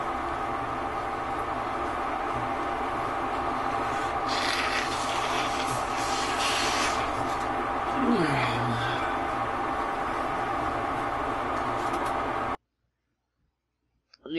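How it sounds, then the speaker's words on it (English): An air filter runs on its low setting, giving a steady, even whoosh of moving air that holds at the same level throughout and cuts off abruptly near the end, with no one speaking. "my air filter is actually down on low. I've had it on medium for a couple hours now."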